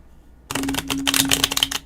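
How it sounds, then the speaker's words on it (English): A deck of long, skinny tarot cards being shuffled up close, a sudden rapid flurry of papery riffling clicks lasting about a second and a half after a quiet start. "Which is actually a really effective shuffling method"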